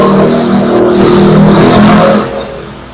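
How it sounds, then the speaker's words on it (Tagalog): Loud, steady engine roar from tricycles and motorcycles passing close by on a roadside, rising and then fading away toward the end, with no talking. "Maingay yung mga dumadaan na tricycle, mga motor."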